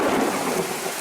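A sharp crack of thunder rolls out after a lightning flash during a rainstorm, loud and close, with steady rain hissing underneath.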